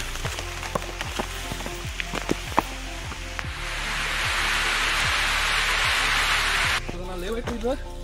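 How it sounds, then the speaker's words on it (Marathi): Heavy rain falls during a steep trek up Harihar fort, a dense hiss that swells for several seconds, with steady tapping steps and a voice nearby. "पाऊस जोरदार चालू आहे का"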